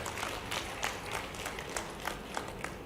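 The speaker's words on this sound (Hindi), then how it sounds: "जोरदार ताली बजा करके मेरी बात का समर्थन व्यक्त करें।" Scattered clapping from an audience at a political rally in Sagar, fairly far off and steady, with sharper individual claps popping out over a diffuse crowd wash.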